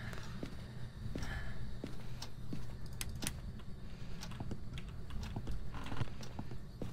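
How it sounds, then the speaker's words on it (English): Footsteps in the horror video game Phasmophobia, a quiet, irregular series of hollow clacking steps with faint knocks and scrapes over a low droning hum, fairly soft and with no talking. "they changed the way footsteps sound."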